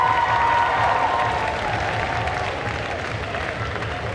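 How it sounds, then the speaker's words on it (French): Sustained audience applause at a cosplay group contest at an anime convention, a dense steady clatter of many hands filling the whole stretch, with a faint voice briefly audible over it. "On applaudit encore une fois bien fort le groupe Castlevania"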